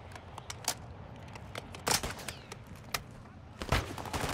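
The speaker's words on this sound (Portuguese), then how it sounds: "Boa, tiros. Yep, tiros." Gunfire in the DMZ combat video game: scattered sharp shots and short bursts, moderately distant, over a low background rumble, with a couple of louder cracks standing out.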